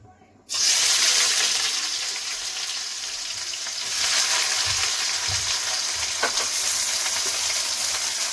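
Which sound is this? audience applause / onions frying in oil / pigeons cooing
onions frying in oil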